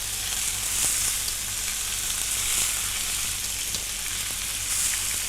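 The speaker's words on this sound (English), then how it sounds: "let it fry off to get a little bit of colour." Rabbit pieces sizzle steadily in a hot frying pan, a dense crackling hiss with occasional louder pops, no voices.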